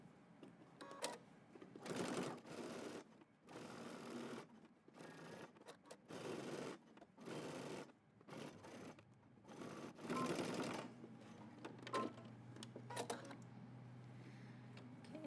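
A sewing machine stitches the top of a jacket collar in repeated bursts of rapid mechanical whirring, running a second or two at a time with short pauses between runs, close and alone with no voices.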